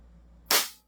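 A JWC Pit Viper toy gun fires once, a sharp close burst of air hiss that jumps in suddenly out of quiet and fades within about a third of a second.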